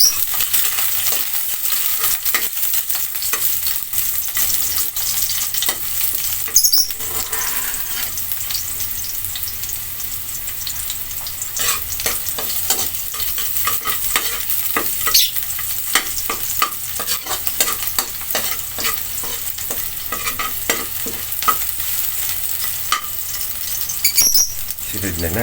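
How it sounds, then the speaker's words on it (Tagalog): Shrimp sautéing in hot cooking oil in a pan, giving a steady, close sizzle for the whole stretch, with scattered clinks and scraping stir sounds on top. "Naglagay na ako ng mantika sa kawali. At igisa na natin ang hipon."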